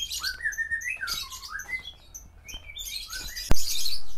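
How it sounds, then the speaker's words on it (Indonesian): Many caged songbirds, including murai batu (white-rumped shama), chirp and whistle in a busy overlapping chorus close by, with one sharp click or snap near the end. "Banyak burung nih."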